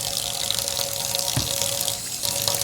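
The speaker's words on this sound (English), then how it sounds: "So we want to start off by washing our hands. Make sure the water's warm." Warm water runs steadily from a tap into a sink during handwashing, a close, continuous splashing hiss with small shifts as hands move under the stream.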